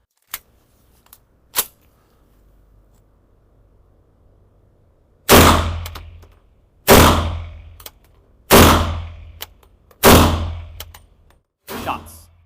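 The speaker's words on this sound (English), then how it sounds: "I'll shoot 5 shots and we'll check the target" Five sharp handgun shots ring out one after another at roughly even intervals while a VectorOptics Frenzy red dot sight is tested, each a loud close crack with a short decaying tail. Two faint clicks come before them.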